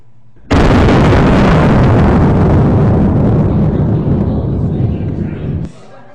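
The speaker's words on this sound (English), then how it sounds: "if we put the shotgun down by an octave, it's getting a little bit more grenade-like at that sort of level" A shotgun sound effect pitched down by octaves so it resembles a grenade: one loud, sustained, rumbling blast that starts abruptly and fades after several seconds.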